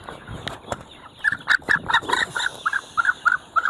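Brahma chickens on a farm in Sylhet give a run of about a dozen close, rhythmic clucks, preceded by a few sharp scratching and knocking sounds, with no talking.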